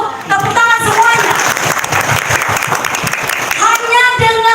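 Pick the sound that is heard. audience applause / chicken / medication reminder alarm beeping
audience applause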